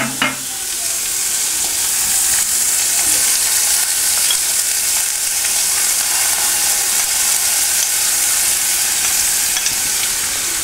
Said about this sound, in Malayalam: ഇനി നമുക്കതിലേക്ക് അരിഞ്ഞു വെച്ചിരിക്കുന്ന ചെറിയുള്ളി, സവാള എന്നിവ ഇട്ട് നന്നായി വഴറ്റാം.